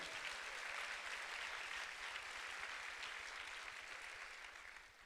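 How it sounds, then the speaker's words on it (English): An audience at a Women on Boards event applauds its sponsors with a dense, even wash of many hands clapping, heard from a distance and tapering off toward the end. "Let's have a round of applause for them."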